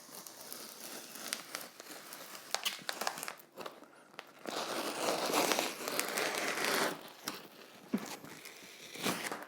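A crinkly backing sheet is peeled away from an adhesive sheet used for cutting modelling vegetation on a Brother ScanNCut, giving close, irregular crackling and crinkling bursts across the whole stretch.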